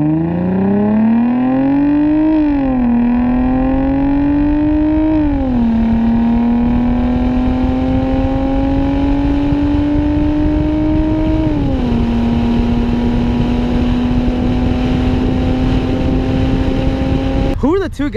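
A car with muffler and resonator deleted, the gap filled with straight pipe, drones loudly close by, revving up in several steps and then holding a steady raspy exhaust tone throughout.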